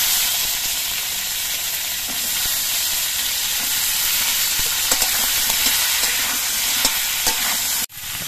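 Ridge gourd frying in hot oil in a wok sizzles steadily and loudly throughout, a dense unbroken hiss with a few faint clicks and a sudden brief dip near the end.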